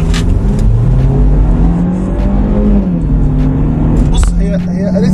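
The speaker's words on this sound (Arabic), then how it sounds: "انا بحب صوت المرسيدس قوي بجد" A Mercedes C180 AMG engine revs loudly and close by, its tone rising and falling through repeated throttle blips while voices talk over it.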